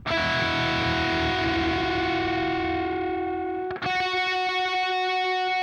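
Bent notes on a distorted electric guitar sustain loudly through an effects unit, two pitches beating against each other with a wavering pulse, then a brief break before a new sustained distorted chord rings out.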